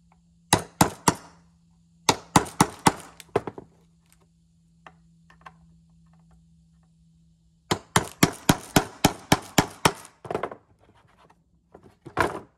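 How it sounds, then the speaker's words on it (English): Steel punch struck with a hammer to drive nails out through wooden pallet planks: rapid bursts of sharp metallic blows, a cluster, another cluster, then a longer run of about a dozen strikes, close and loud with pauses between. "And to get these nails out, just take a punch, hammer, work it through to the other side."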